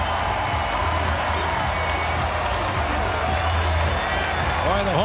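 A packed home crowd at BC Place stadium roars after a BC Lions touchdown against Winnipeg in a Canadian Football League game, a dense continuous cheer with a commentator's voice over it.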